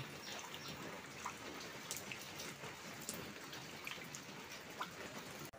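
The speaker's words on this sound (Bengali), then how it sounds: "বৃষ্টি তো কমছেই না, সারাটা দিন অঝরে বৃষ্টি।" Steady heavy monsoon rain falls all day with scattered louder drops pattering on a surface, a continuous, fairly quiet wash.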